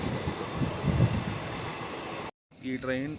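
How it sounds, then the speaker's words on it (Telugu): A superfast sleeper train rumbles past a remote railway station with a steady, loud rolling roar, then the sound cuts off abruptly and a voice speaks briefly afterward. "సూపర్ ఫాస్ట్ అనమాట"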